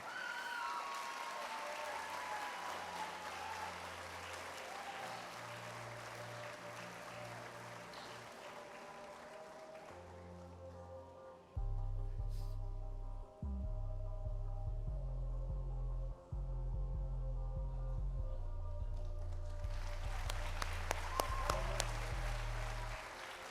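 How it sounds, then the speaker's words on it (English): Audience applause at a high school sports awards ceremony fills the first half as a steady wash of clapping, then gives way to a loud, low, throbbing hum that continues to the end. "let's give a big round of applause for the 2022 Courage Award recipient, Paul Lespacio."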